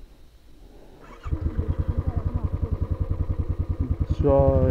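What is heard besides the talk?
motorcycle riding uphill in first gear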